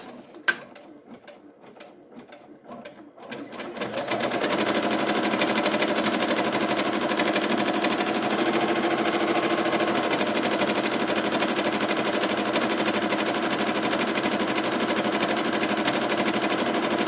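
Embroidery machine stitching a Christmas hoop ornament, a steady rapid mechanical whirr and clatter that starts after a few seconds of quiet handling noises and then runs loud and continuous to the end.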